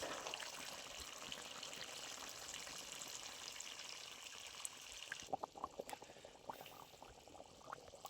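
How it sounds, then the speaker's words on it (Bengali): Chicken curry with new potatoes simmering in a little added water, a soft steady bubbling that carries on evenly, then thins out into sparser pops and small splashes toward the end, with no voices. "এবারে আমি অল্প জল দিয়ে কিছুক্ষণের জন্য ফুটিয়ে নেব।"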